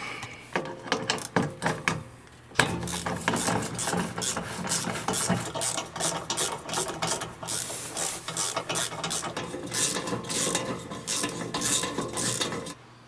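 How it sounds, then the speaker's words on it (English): A hand ratchet clicks in quick bursts while loosening skid plate bolts underneath a Lexus GX, its metallic pawl chatter close and repeated, with brief pauses and clinks of metal between runs. "This is how we removed these bolts in the exact sequence."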